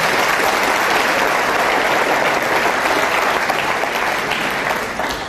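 A church congregation applauds in a dense, steady wash of clapping that fills the space for several seconds, easing slightly at the end.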